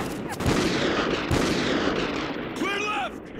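A remote sniper rifle shot in the video game Call of Duty: Ghosts: a couple of loud, sharp cracks against a dense backdrop of combat noise, with a voice briefly heard near the end.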